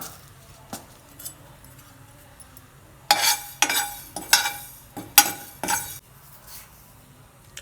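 Fenugreek seeds rattle and skitter in a metal pan while being dry-roasted for mango pickle, with scattered clinks and short scraping bursts of stirring.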